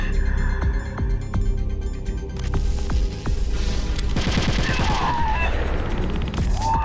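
Rapid bursts of in-game gunfire from Metal Gear Solid: The Twin Snakes on GameCube, dense and loud, layered over a continuous game soundtrack and effects.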